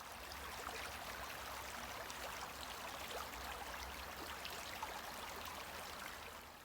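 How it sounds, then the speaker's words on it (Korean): A clear stream flows through a healing forest, its steady broadband rush of water continuous and close, with no voices over it. "여러분도 맑은 물소리 잠시 들어보세요."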